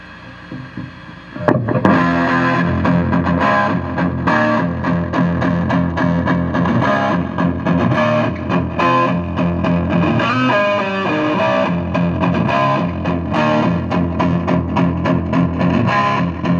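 A Gibson Zakk Wylde SG V Custom Shop electric guitar plays through a 1966 Fender Pro Reverb amp with light overdrive, loud, close riffing chords and single notes ringing continuously after a brief pickup noise.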